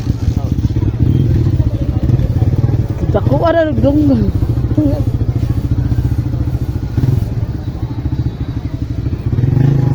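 Motorcycle engine running steadily nearby at a Sunday market, a continuous low rumble throughout with people talking over it.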